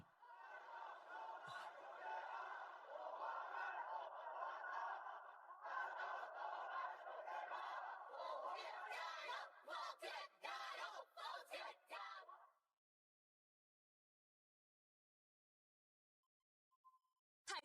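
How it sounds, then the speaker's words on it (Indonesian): A large crowd at an Olympic event roars with sustained shouting and cheering for Feng Qian, loud and dense for about twelve seconds, then breaking into a few ragged bursts before falling silent. "Ini adalah teriakan semangat dari saudara-saudara untuk Feng Qian"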